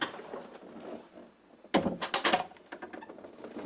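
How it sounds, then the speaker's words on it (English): A door at the old Jamaica Inn shifts on its own with a burst of creaks, knocks and rattles after quiet background sound, followed by fainter scraping. "Because something's moving this door."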